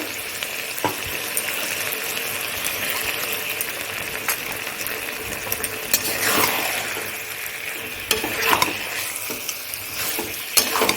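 Cornflour slurry is poured over simmering chilli paneer in a pan and stirred in, giving a steady bubbling sizzle with louder scraping swirls of the spoon toward the end and no speech.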